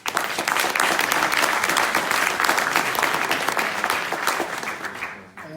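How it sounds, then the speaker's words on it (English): An audience at a Speck&Tech tech meetup applauds steadily, a dense, loud clapping that holds for several seconds before tapering off at the end. "Big applause."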